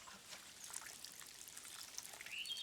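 Water trickles and pours from a watering can onto a plant in the video game Len's Island, a soft, steady splashing stream that stays faint for a couple of seconds.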